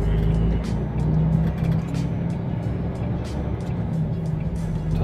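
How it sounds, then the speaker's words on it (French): Heavy traffic rumbles through a roundabout as heard from inside a truck cab, a dense, steady roar of engines and passing vehicles with brief higher hisses, continuous from start to end. "En plus il y a une circulation de folie là."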